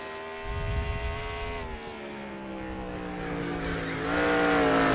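A NASCAR stock car engine in NASCAR Racing 2003 at Sonoma Raceway drones steadily, then its pitch drops as the gear shifts up to fourth and climbs again as the revs rise, loud and continuous with no talk.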